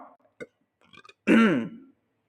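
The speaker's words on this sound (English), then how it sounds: "Sorry for the burp." A single loud, croaking human burp lasting about half a second, preceded by a few soft mouth and breath noises, close to the microphone.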